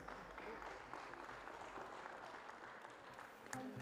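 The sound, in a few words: audience applause at a Limousin cattle auction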